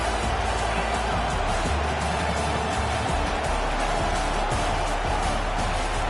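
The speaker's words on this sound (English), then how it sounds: "This crowd trying to make life miserable for this offense." A college football stadium crowd roars during a Georgia Tech versus Georgia game, a dense, sustained wall of crowd noise that holds steady and loud throughout.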